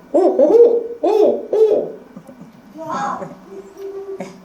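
A person imitates an owl's hooting call, a series of low rhythmic hoots followed by a softer, longer call, close and clear.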